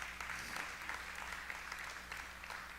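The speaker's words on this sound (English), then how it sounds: "we can give God a round of applause for that." A church congregation gives a soft, even round of applause during a sermon, heard as continuous distant clapping that fills the room at low volume.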